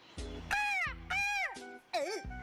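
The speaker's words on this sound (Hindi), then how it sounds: "अगर आपने सब्सक्राइब नहीं किया तो काला कौवा काटेगा।" A crow caws three times, loud and close, each call a harsh descending rasp, set within a cartoon soundtrack with brief bursts of other tones between the calls.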